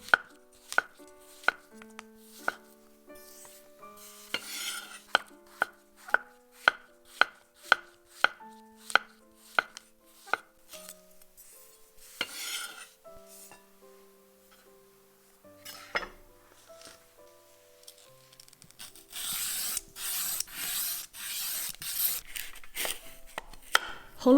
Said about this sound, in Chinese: 将蘑菇帽切片。